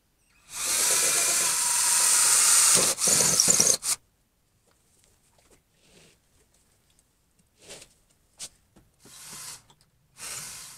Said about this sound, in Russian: теперь надо просверлить отверстие, чтобы провода эти вовнутрь запрятать